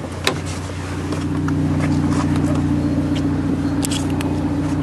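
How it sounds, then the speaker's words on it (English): A 2014 Ford Focus ST with a Cobb Stage 3 tune idles with a steady low engine hum and droning exhaust tones, alongside faint clicks and light rattles nearby. "And you can just hear it idle."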